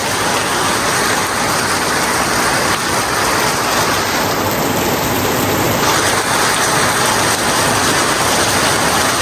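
Heavy rain pours steadily with strong wind in Adirampattinam, a constant broadband hiss and rushing wind, loud and unbroken throughout.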